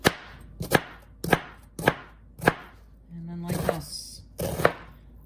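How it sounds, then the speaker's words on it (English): A knife chops a red onion on a large cutting board, giving a steady series of sharp, close knocks roughly every half second, with a short scraping shuffle partway through before the chopping resumes. "I'm gonna be chopping these, and I'll just use about half of this red onion"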